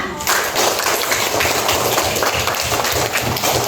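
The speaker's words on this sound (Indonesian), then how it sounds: "Tepuk tangan untuk apa?" A classroom of pupils claps together in a loud, rhythmic patterned clap, steady beats repeating throughout the short burst.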